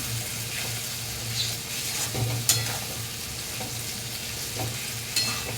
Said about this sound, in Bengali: দেখো মশলাটা ভাজা ভাজা হয়ে গেছে তেল ছেড়ে দিয়েছে